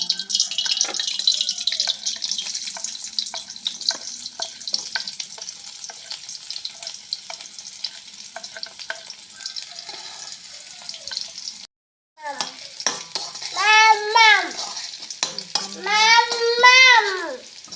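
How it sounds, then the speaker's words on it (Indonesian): Sliced shallots and spices sizzle and hiss in a pan with frequent scraping stirs, loud and close; after a brief break, a voice joins over the frying. "Saya masak bawangnya dulu ya"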